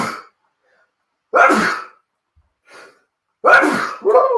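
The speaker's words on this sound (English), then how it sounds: "I'm about to sneeze." A single loud, close sneeze with a short wind-up breath, then a quiet pause and a second burst of sound, one person indoors.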